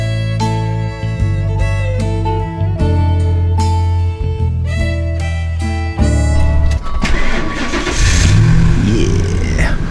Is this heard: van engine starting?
yes